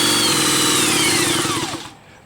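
An electric motor spins a pulley at 1700 RPM, a loud close whirring hum with rising and falling whine tones that winds down and stops near the end.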